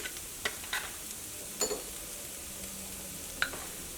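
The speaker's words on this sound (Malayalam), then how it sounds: "ചെറിയ തീയിലിട്ടിട്ട് മല്ലിപ്പൊടി മുരിച്ചിട്ട് എടുക്കുക" Coriander powder being roasted on a low flame for tomato fry, with a faint hiss and a handful of separate spatula scrapes and taps against the pan.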